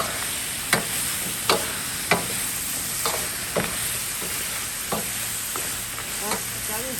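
Beef bones go into a hot pot with tomato shreds and red sour soup, hissing with a steady sizzle while a utensil scrapes and clacks against the pot in a loose, repeated stirring rhythm.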